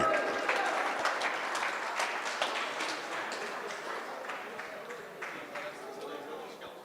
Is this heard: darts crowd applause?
yes